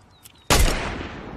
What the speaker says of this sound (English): Oh, Chad shot at her.